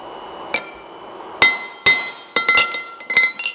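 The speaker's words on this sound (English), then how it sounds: "you will put the nose of the hammer on the anvil, and you're going to hit the drift here" A blacksmith's hammer strikes a drift set in a hammer eye on the anvil to correct the eye. About six sharp, ringing metallic blows land at uneven intervals, close and loud, with no talking.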